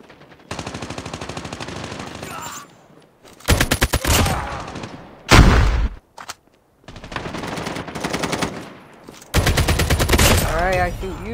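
Call of Duty gameplay with the ASM-10 rifle firing in loud, rapid automatic bursts separated by short pauses, with the game's battle audio close and dominant.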